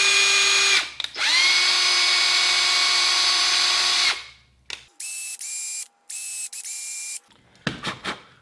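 A power drill whines steadily while tapping small holes for 4-40 screws, running in a long sustained burst and then several shorter starts and stops with brief mechanical clicks.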